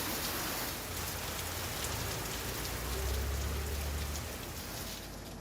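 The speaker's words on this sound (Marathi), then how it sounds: "आज पावसानं पुन्हा एकदा जोरदार कमबॅक केलंय" Steady heavy monsoon rain pours down in Sindhudurg without a break, a dense hiss of drops hitting surfaces close by.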